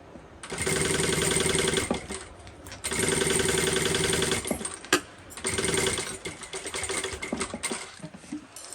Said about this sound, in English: I'm going to baste along this side